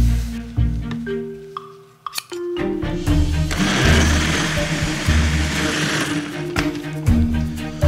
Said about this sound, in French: on verse le lait de coco, on ajoute la mangue et on mixe